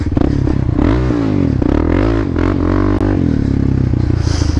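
A Z400 quad (ATV) rides a trail, its engine loud and close with a continuous drone that rises and falls in pitch as the throttle opens and eases, alongside faint clatter from the terrain. No one speaks.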